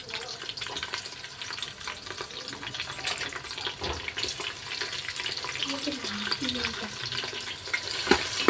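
Chopped onions sizzle and fry in a pan for egg biryani, a soft continuous crackle with occasional stirring and clinks, moderately quiet, under a voice speaking.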